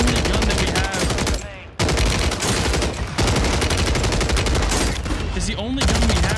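DG-58 LSW light support weapon firing on full auto in Warzone 3 (Modern Warfare III): loud, dense sustained bursts of rapid gunfire, broken by a couple of short pauses, with faint voices underneath.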